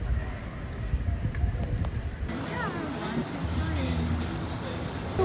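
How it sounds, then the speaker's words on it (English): Hooves of a ridden horse at the Fort Worth Stockyards in Texas, a scattered clip-clop on pavement under crowd chatter and nearby voices. "Just a man on a horse."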